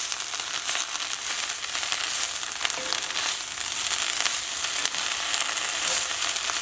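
Kale fries in a hot pan with garlic, giving a steady, dense sizzle and crackle while a spoon stirs it now and then, close and continuous without any talking.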